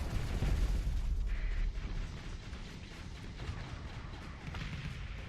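Rapid laser cannons firing in the Starsector space combat game, a dense, continuous barrage of booming, rumbling shots that is loudest at the start and then holds steady throughout.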